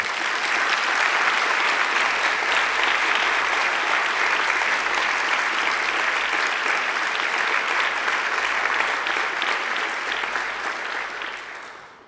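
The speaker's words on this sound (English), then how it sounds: "they deserve a round of applause too" A graduation ceremony audience claps for the academic staff in an outdoor courtyard, dense, even applause that holds steady for about eleven seconds and then fades out.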